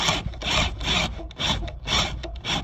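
A 1.5 inch Forstner bit countersinking a hole into a wooden utility trailer deck board, giving rhythmic rasping, grinding bursts about twice per second, loud and close with no talking.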